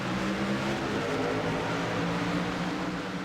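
A V8 race truck engine in the iRacing video game roars steadily at the start at Okayama Circuit, with dense, loud accelerating engine drone and other trucks bunched close behind.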